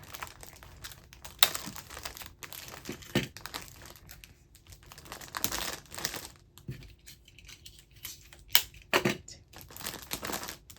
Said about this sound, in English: Let's fold it over. Use tape.